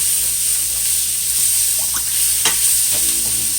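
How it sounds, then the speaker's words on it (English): Sliced peppers and onions sizzle and fry steadily in a hot pan, a continuous close hiss with a few light stirring scrapes. "we're going to dump the peppers and onions, let them saute up a little bit"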